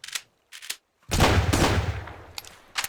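Shotgun fire in the video game Sunkenland: a few short sharp reports, then a heavy boom with a long rumbling tail, followed by two more brief crisp shots.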